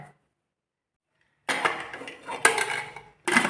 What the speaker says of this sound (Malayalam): ഇത്രയിട്ട് കുക്കർ അടച്ച് വെച്ച് നമുക്ക് വേവിക്കാം